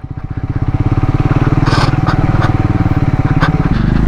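A Triumph Scrambler motorcycle rides through dense forest, its engine loud and close with a fast, steady, throbbing pulse, and a few sharp clatters on rough ground along the way.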